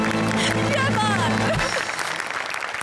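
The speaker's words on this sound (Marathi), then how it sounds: "आम्हाला हसून मारल्याबद्दलच्या टाळ्या आहेत" Studio audience applause at a Marathi comedy show, a dense clapping wash that starts loud under overlapping music and a speaking voice, then carries on more thinly once the music cuts out partway through.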